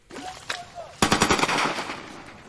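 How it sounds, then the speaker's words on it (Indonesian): A rapid burst of repeated gunshots rings out outdoors, a few single shots first, then a loud close volley of rapid fire that trails off into echo. "Sesaat terdengar suara tembakan berkali-kali."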